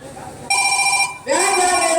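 A telephone rings in two loud electronic bursts, close and clear, with a brief gap between them and a faint voice in the background.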